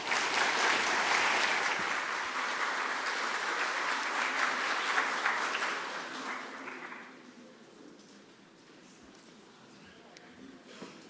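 A crowd applauds after a student speech on raising Indiana's minimum wage at a speech competition, steady loud clapping that thins out and fades after about six seconds.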